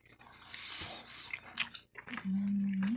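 Smoked meat is eaten by hand with close, wet chewing and biting sounds, followed by a short hummed voice.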